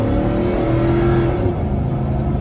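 A 1999 Chevrolet Silverado stepside pickup with a 5.3 V8 and automatic transmission accelerating on the road, a steady engine drone rising in pitch under cabin road noise, heard from inside, then easing off near the end.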